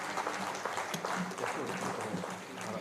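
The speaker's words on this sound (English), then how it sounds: "Please give a huge round of applause" An audience at an engineering society event in Karnataka, India applauds steadily with dense, moderately distant clapping, with a voice faintly mixed in.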